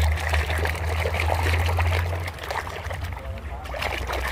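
Toy carpentry tools such as pliers are dunked and swished in water, giving a steady trickling, sloshing wash over a low background hum, with no talking.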